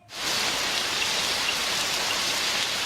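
Steady, dense rain hisses down after a quick fade-in, a continuous close wash of drops with no breaks.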